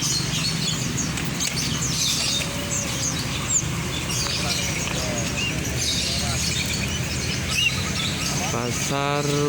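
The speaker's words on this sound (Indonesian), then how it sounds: "Ini burung-burungnya guys." Caged birds at a bird market in Malang, with busy chirps and tweets scattered over a dense crowd murmur, voices talking throughout and some fluttering near the end.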